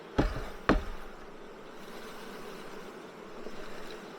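Honey bees from a bee package hum in a low continuous drone, close by, with two sharp knocks near the start and no voices.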